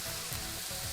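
A brief stretch of steady, quiet sizzling from pork stir frying in a hot pan, close by with no talking.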